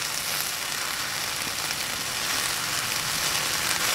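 Steady, dense sizzle of food softening in a hot pan on a narrowboat, continuous and close with no break and no talking.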